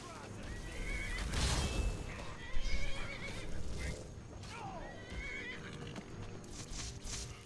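In a Skyrim game scene, a carriage rider's horse under attack whinnies loudly twice, with hoof clops and dull combat thuds around it while someone talks over the action.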